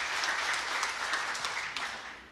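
Church congregation applauding during a sermon, a dense, steady wash of many hands clapping together, sustained and even throughout before easing slightly at the end.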